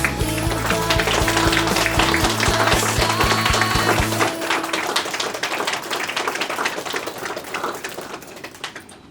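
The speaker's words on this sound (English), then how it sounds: "Give them a round of applause." Standing wedding guests applaud the bride and groom in a dense, sustained round of clapping. Music plays loudly under it at first, then cuts off, leaving the applause alone as it slowly thins out.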